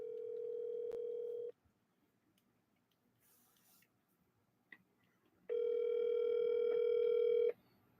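Outgoing phone call ringback: two steady electronic ring tones about 1.5 and 2 seconds long, separated by a quiet gap, clear and close with no talking.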